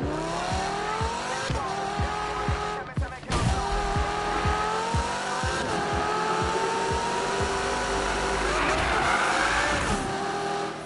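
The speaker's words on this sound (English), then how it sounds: "the only thing I think is better on the crew is the way the car sounds." Car engine in the racing video game The Crew, a steady drone with rising and falling rev harmonics, brief tire squeal and skidding, and a near, continuous sound with faint talk in the background.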